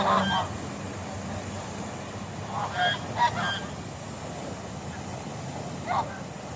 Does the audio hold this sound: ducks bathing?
yes